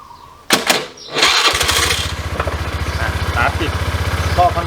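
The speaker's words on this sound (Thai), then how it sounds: "เดี๋ยวผมลองสตาร์ทให้ดูใหม่อีกครั้งนะครับ แล้วก็จะลอง เปิดคันเร่งดูนะครับ" A Honda Click 110i scooter with a fault is started after a couple of cranking bursts, then catches and runs in a close, fast, rhythmic putter as the throttle is opened, with no talk over it.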